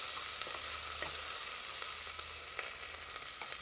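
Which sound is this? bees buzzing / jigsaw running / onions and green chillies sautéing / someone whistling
onions and green chillies sautéing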